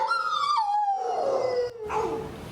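Husky mix dogs, part of a group found neglected and abandoned in Idaho, howl loudly and close, with long wavering tones that slide downward and overlap, with no talking.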